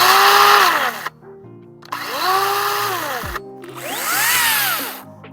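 A Makita 18V brushless 14-inch cordless chainsaw revs up three times, its motor whine rising and falling in pitch before the brake stops it abruptly each time; loud and close, with no talk.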